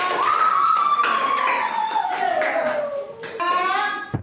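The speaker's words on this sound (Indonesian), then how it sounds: "tepuk tangan dong untuk kelompok 2" A class applauds a presenting group in a Pancasila lesson, scattered claps under a drawn-out voice, ending with a few louder taps.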